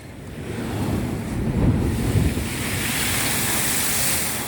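Big sea waves surge and break at Goodrington Sands beach, a steady loud roar of surf with wind buffeting the microphone, swelling slightly mid-way.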